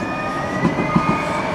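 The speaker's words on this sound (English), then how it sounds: "Your train is coming." Steady rumbling train noise with a faint high whine and a few soft clacks of wheels, fairly close, with no voices.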